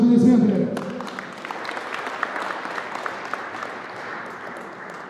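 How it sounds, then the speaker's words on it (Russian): An announcer's voice gives way to an audience clapping at a professional combat sambo world championship event, a moderate, steady wash of applause continuing for several seconds. "Ваши аплодисменты."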